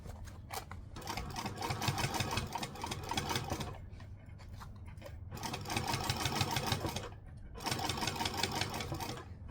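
A sewing machine stitches fabric with fringing in three sustained bursts of fast, buzzing needle strokes, each separated by a short pause, close and steady.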